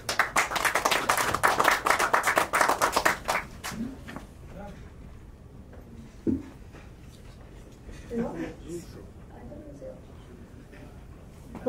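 Clapping from an audience at a December 2023 award show greets a recipient coming on stage, a loud burst that fades after about four seconds into scattered taps and a few voices.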